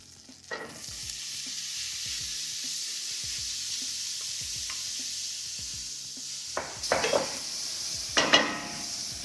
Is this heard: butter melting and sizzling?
yes